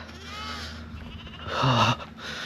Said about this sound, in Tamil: இதெல்லாம் உங்களோட ஆடு கத்துற சத்தம் கேட்குதா?